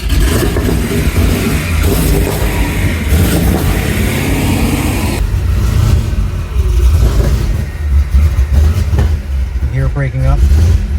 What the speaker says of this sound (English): breaking up upon revving